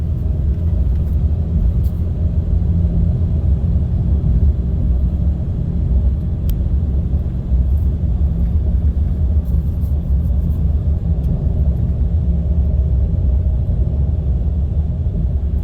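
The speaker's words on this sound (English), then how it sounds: "We are picking up some road noise with the Firestone tires." Steady, loud cabin drone from a 2024 RAM 3500 HD Cummins towing on Firestone tires, with deep engine and road rumble filling the whole stretch and a few faint ticks on top.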